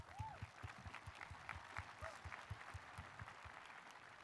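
A crowd at a high school graduation claps steadily and evenly, the applause faint and distant, with a few brief vocal sounds mixed in.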